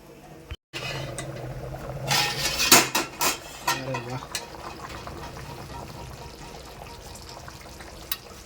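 Fish curry being stirred in a pot with a spoon: clinks and scrapes of metal against the pot amid bubbling liquid, with voices talking in the background.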